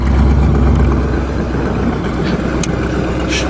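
A 1976 Chrysler New Yorker engine runs at a steady, loud rumble on a farm, one continuous low drone with no talk over it.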